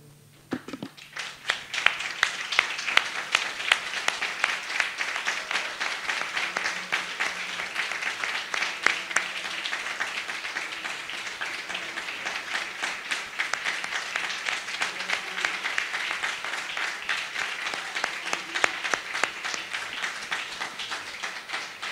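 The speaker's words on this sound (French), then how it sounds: "Nous allons faire une ovation pour notre Dieu." A church congregation stands and gives a sustained ovation, dense steady clapping from many hands that starts suddenly and carries on evenly for over twenty seconds, filling the room.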